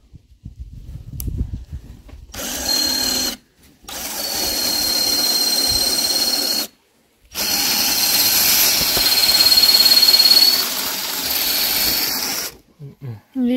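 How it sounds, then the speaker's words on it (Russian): A drill driving an auger bit into metal whines and squeals in three loud, sustained bursts separated by short pauses, with faint knocks and handling noise before the first run. "Я взял бур. А бур надо будет сейчас затачивать, чтобы он просверливал."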